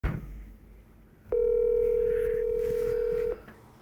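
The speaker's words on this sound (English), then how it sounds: "So let's get Jeff on the phone here" A touch-tone phone call being placed to a conversion shop about a V8-swapped two-door Jeep JK: one sustained, steady dialing tone about two seconds long, loud and clear after a quiet start with faint room noise.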